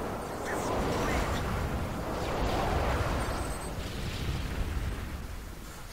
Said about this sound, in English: Enjoy that flashbang I threw your way.